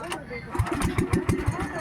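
A small boat engine being started, sputtering and chugging in quick uneven bursts that settle into a rough idle, close by, with people talking over it.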